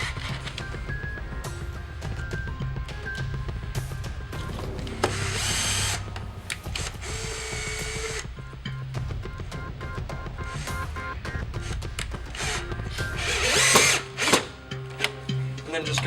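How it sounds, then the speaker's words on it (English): A power drill boring install holes during a fixture installation, whirring in repeated bursts close by, with brief pauses and occasional talk. "drill the other install holes and install the screws"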